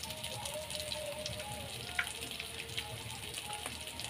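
Potato pieces fry with salt, chilli powder, turmeric and cumin in a pan, giving a soft, steady low sizzle with a few faint clicks, quiet and even throughout.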